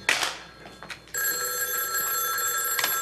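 A telephone bell rings loudly and steadily indoors for about two seconds after a brief muffled noise, with no one answering.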